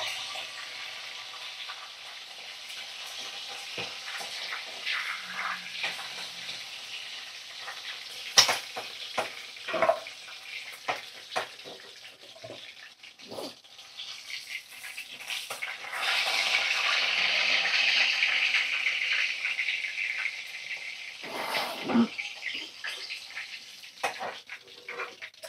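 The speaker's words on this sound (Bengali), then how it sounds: "এইভাবে দেখো সমস্ত চিকেন আমি তেলের মধ্যে দিয়ে ভাজা ভাজা করে নেব" Chicken pieces frying in oil with salt and turmeric, steady sizzling with occasional stirring and sharp knocks of a utensil against the pan, the sizzle swelling louder midway.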